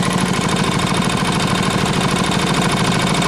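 A small tiller engine with a replaced carburetor runs steadily after repair, a loud, close, rapid chugging buzz at an even idle throughout.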